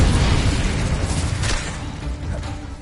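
A fiery Incendio spell bursts in a wizard video game: a loud, dense whoosh and rumble that hits at once and stays heavy throughout, with a brief brighter flare midway and no voices.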